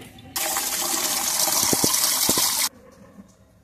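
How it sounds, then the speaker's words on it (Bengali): Water pours steadily onto a freshly transplanted potted petunia, a loud continuous gushing splash lasting about two seconds, then cutting off abruptly into quiet. "এরপর আমি এইটা গাছটাতে জল দেবো।"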